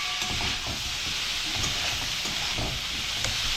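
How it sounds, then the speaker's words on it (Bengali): Vegetables sizzle in a hot pan while being fried for a winter moong dal, a steady close hiss with faint stirring clicks throughout. "এরকম একটু ভাজা হচ্ছে"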